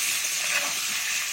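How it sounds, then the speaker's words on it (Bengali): Potato pieces frying in hot oil with salt and turmeric: a steady, close, hissing sizzle that stays even throughout, with no voices. "দেব লবণ আর হলুদের গুঁড়ো দিয়ে আলুটাকে আমি লাল লাল করে ভেজে নেব।"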